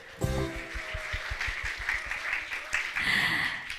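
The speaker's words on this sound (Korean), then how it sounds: "우리 나를 위해 서로를 위해 응원의 박수." A congregation applauding at a live worship service broadcast, with a steady burst of many hands clapping and faint voices mixed in.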